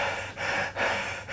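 Voice imitating a worn-out heavyweight boxer gasping for air at the end of a fight, with three heavy, breathy inhalations and exhalations in a ragged rhythm, close and alone.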